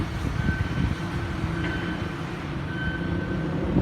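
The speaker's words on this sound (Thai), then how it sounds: "นี่เป็นขบวนรถไฟขบวนสุดท้ายของวันนะครับ" Thai passenger train 313 rumbles steadily past a level crossing near Bang Sue at close range, a continuous heavy roar with a faint high tone from the crossing signal above it.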